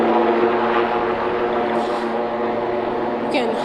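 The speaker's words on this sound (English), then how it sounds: "Hopefully you can hear us over this helicopter that's above us right now" A helicopter hovers above an outdoor memorial gathering after the Chiefs rally shooting, a steady, loud rotor-and-engine drone that masks everything else while faint sounds come and go.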